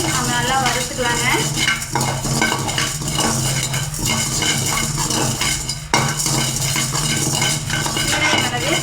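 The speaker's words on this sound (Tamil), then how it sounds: "சீரகம் மிளகையும் நம்ம நல்லா வறுத்துக்கலாங்க." Cumin seeds and black pepper are dry roasted in a pan for a masala powder, with a spoon scraping and clinking against the metal. The stirring is close and steady, with background music underneath.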